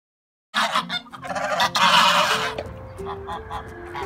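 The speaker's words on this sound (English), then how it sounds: "get the geese down here" Geese at a backyard goose shelter give loud, close honks and squawks in a dense, overlapping chorus that starts abruptly and then thins into scattered calls.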